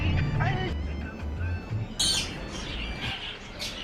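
Birds in a pet shop squawk and screech in short harsh bursts amid a steady low hum of the shop, with a loud cluster of calls near the end.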